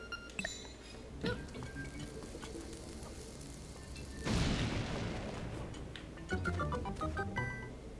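A bomb blasts open a cracked, bombable wall in a Legend of Zelda game: one sudden loud boom with a broad crumbling burst midway, over light, steady game music with chiming notes.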